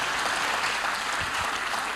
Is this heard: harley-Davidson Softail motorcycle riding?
no